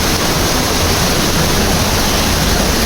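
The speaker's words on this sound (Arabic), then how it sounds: "طبعا الشلال هذا لا زال في مديرية الرضمة" Waterfall in Al-Radmah district, Ibb, Yemen, pouring in a loud, steady broadband roar that fills the whole stretch without a break or any voices.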